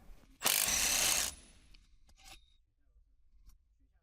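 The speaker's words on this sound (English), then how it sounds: "Use a large 13mm E-torque socket with a long extension bar and an electric impact wrench. Remove the wheel hub bearing bolts." Electric impact wrench with a 13mm socket on a long extension, removing wheel hub bearing bolts on a 2013 Jeep Wrangler: one loud burst of about a second, then faint clicks and handling noise.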